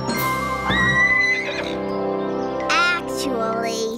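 A horse gives a loud, close whinny, a rising and falling neigh with a shrill wavering quality that repeats in a second shorter call, carried over a soft musical background.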